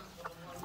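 A Rhode Island Red chicken gives a single soft, brief cluck at moderate distance against a low background hum.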